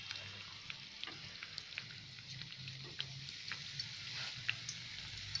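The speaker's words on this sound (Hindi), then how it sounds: "एकदम आहिस्ते से इसे हमें ऑयल में डाल देना है" Bread pakoda frying in hot oil on a medium gas flame, a steady soft sizzle with faint crackles and small pops, heard close and alone with no talking.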